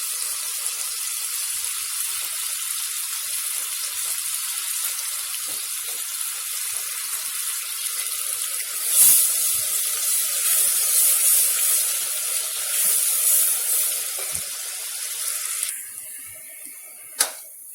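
Chopped onions sizzle steadily in a pan as they are fried down for a flour soup, a continuous bright hiss with faint scraping stirs, softening near the end.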